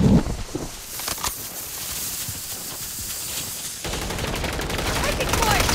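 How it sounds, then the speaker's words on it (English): Gunfire crackles through a Warzone 3 Rebirth Resurgence match, bursts of shots mixed with game radio voices calling out, the shooting fairly close and dense with a brief lull before it picks up again. "Taking fire."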